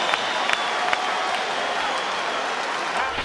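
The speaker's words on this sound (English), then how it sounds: "Crowd rises to support both fighters." A boxing crowd at the Staples Center roars and applauds during a big De La Hoya vs Mosley fight, a dense continuous wash of clapping and cheering with scattered sharper claps.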